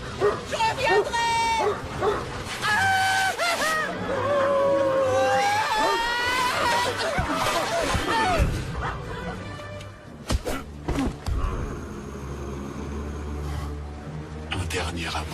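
Dogs bark, yip and whimper in quick bursts, with several loud barks clustered at the start and scattered yelps later, mixed with talking.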